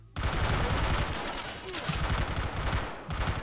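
Gunfire in the Spy Hunter: Nowhere to Run video game, a loud, dense burst of rapid automatic shots that starts abruptly and rattles on almost without pause, with a voice briefly over it.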